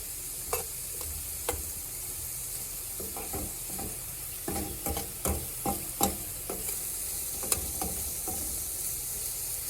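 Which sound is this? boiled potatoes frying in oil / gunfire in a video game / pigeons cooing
boiled potatoes frying in oil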